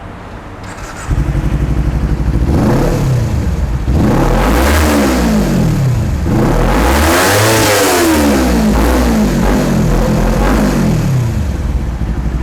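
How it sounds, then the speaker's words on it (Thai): A motorcycle engine idles, then revs up and down several times, loud and close, each rev rising and falling in pitch. "เดี๋ยวลองฟังเสียงเครื่องยนต์กันดู"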